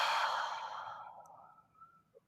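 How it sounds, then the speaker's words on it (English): A long, breathy exhale during a full-body tensing and relaxation breathing exercise, loud at first and then trailing off slowly into near silence. "Inhale, tense the whole body, and then exhale."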